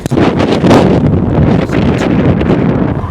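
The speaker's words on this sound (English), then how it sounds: "It is really windy." Strong wind with gusts around 40+ mph buffets the microphone continuously, a loud rumbling roar with gusty swells and no pauses.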